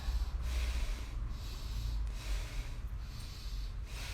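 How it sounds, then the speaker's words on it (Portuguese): Rapid abdominal breathing exercise: quick, forceful nasal breaths in steady repeated pulses, close and continuous, with airy rushing noise and no talking. "essa respiração acelerada, se você em algum momento perder, você inspira o abdômen para fora, solta o abdômen para dentro"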